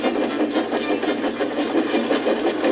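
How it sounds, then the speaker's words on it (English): A steam locomotive brakes gently, giving a steady, rhythmic chuffing and rubbing that stays close and even, with no voices. "Gently braking, Edward's driver checked the engine's speed"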